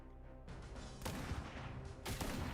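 A Covenant shade turret firing in Halo Campaign Evolved, heavy booming plasma blasts landing roughly once a second, with a steady low rumble of battle between the shots.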